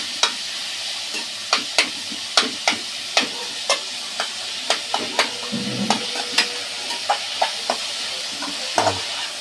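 Chopped onion frying in oil in a pan for bhurji, stirred and mashed with a spoon: steady sizzling under regular sharp spoon clicks against the pan, close and fairly loud.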